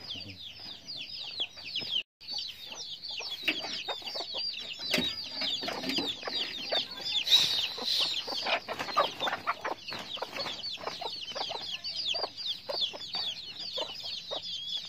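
Chicks and hens in a small brooding shed built behind a house, giving a dense, continuous chorus of high peeping and chirping with occasional clucks, close and lively throughout.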